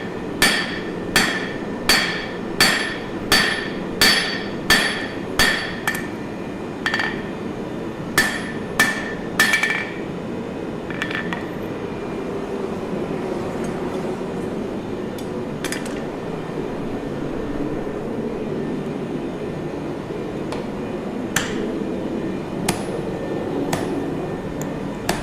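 A hammer strikes hot metal at a forge in a loud, steady run of about a dozen ringing blows, then pauses under a low roar before a few more scattered hits near the end.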